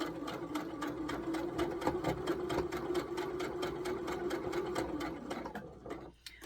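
A sewing machine running a standard stitch with black thread hums steadily and close, its rapid regular needle strokes continuing for several seconds before slowing and stopping at the end.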